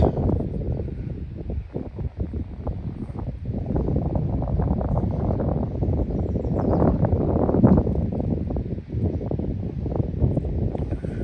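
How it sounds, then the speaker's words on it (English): Steady wind gusting and buffeting the microphone outdoors along Northern California's Eel River, a continuous rough roar with rustling, no voices. "It's hard to tell because it's so windy."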